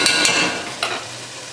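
Biryani is stirred in a pot with a scraping, sizzling sound that stays steady and close, with no voices.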